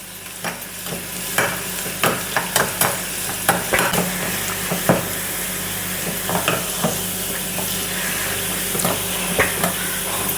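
Onions frying in a pan for an okra curry, with a steady sizzling hiss and scattered sharp scrapes and taps of a spoon as they are stirred, close and continuous, with no talking.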